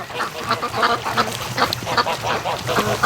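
Muscovy ducks on a free-range farm near a lake give a busy run of quacks and honking calls, close and fairly loud, overlapping continuously throughout.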